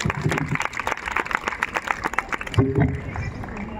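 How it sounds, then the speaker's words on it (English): A school class claps and cheers at a Republic Day celebration, with dense rapid clapping and a burst of voices partway through. "The whole class claps and cheers for their performance"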